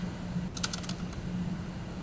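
A short quick flurry of key taps on a MacBook keyboard while typing a terminal command, faint and close over a steady background hum, with no voices.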